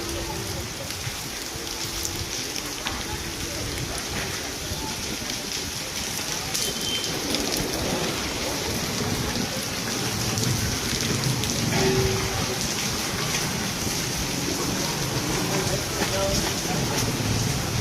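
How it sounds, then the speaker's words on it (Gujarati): Monsoon rain falls steadily in a dense, continuous wash with rumbling low undertones, and a voice talks faintly beneath it. "વરસાદની શરૂઆત થઈ ગઈ છે"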